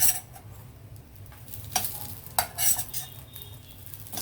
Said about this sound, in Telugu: ఇటువైపు కాలేయేమో మన చికెన్ బిళ్ళలు, తిరగేసి ఇంకో వైపు కూడా కాలనిద్దామండి